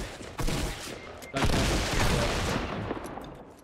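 Rapid bursts of Fortnite gunfire crackle in dense volleys, loud and close, with a brief pause before a second heavier barrage.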